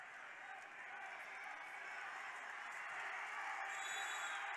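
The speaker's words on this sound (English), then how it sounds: "They even got the Lake Central fans cheering for him." Spectators at a varsity high school basketball sectional game between Morton and East Chicago, a steady wash of crowd cheering and applause that swells slightly over a few seconds, heard from across the gym.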